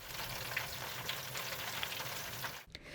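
Steady crackling and sizzling of chicken pieces deep-frying in hot oil in a basket for General Tso's chicken, dense and continuous, with a brief pause near the end.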